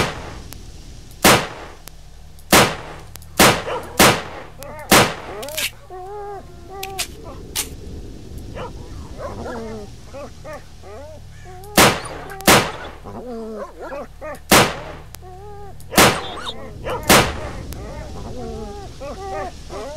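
Gunfire in S.T.A.L.K.E.R. in the Cordon area, a dozen sharp single shots fired at irregular intervals across the scene, with voices in between.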